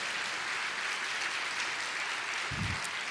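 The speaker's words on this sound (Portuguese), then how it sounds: "Vamos aplaudir ao Senhor porque Deus é bom" A church congregation applauds together, a dense, steady patter of many hands clapping at moderate volume from a room full of people, continuous with no talking over it.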